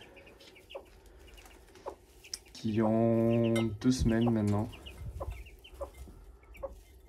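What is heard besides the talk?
hen and chicks clucking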